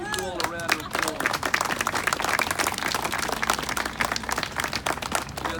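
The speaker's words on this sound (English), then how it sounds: "I want to give you all a round of applause" An audience claps for volunteers at a bronze statue dedication in Annapolis, a dense burst of applause sustained for several seconds, with a voice speaking briefly at the start and some cheering mixed in.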